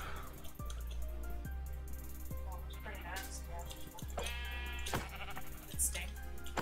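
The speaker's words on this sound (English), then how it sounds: "Come here, sheep." Sheep bleating in the video game Minecraft, several short bleats scattered over soft background music and dripping sounds, with a person talking in between.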